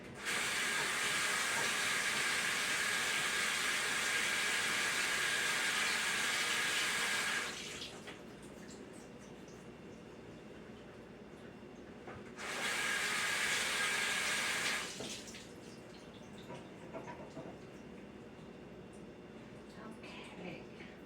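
Running tap water rinsing canned beans, a steady broadband hiss in two bursts, first about seven seconds long, then a shorter one after a pause, with quieter room sounds between.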